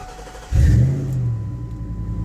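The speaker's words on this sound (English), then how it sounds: "Starter sounds much stronger and smoother." Ford F-150 pickup starter briefly cranking as the engine quickly catches and starts, a sudden loud rumble settling into a steady idle, close by with no talking.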